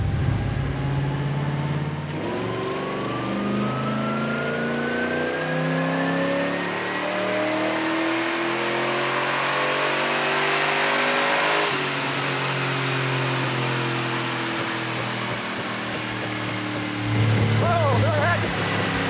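An AMC Javelin muscle car engine revs hard and accelerates, the pitch climbing steadily through a gear before easing off and building again, loud and close from inside the car, with people talking over it.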